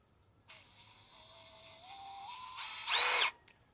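A Milwaukee cordless power screwdriver whirs steadily, its pitch rising in steps as the speed changes, then a louder, harsher burst before it stops.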